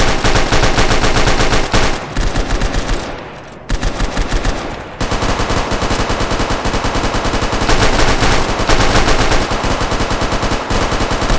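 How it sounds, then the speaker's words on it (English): Loud, rapid automatic gunfire from an MP40 submachine gun in a video game, long sustained bursts with brief pauses, rattling continuously close by. "God, I just love the MP40 noise now."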